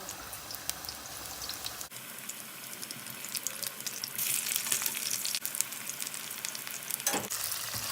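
Eggplant slices fry in hot oil in a pot, giving a steady close sizzle that grows louder and busier partway through as more slices go in.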